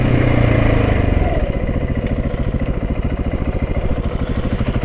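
A supermoto motorcycle engine is loud and close. It comes down from a higher rev into a rapid, even, chugging idle pulse that lasts the rest of the clip, with no talking.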